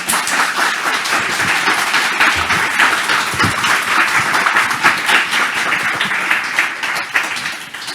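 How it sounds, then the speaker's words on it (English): Sustained audience applause at a panel event on performing arts and disability, a dense, steady wash of many hands clapping at a fairly loud level for the whole stretch, easing slightly at the very end. "a big warm applause"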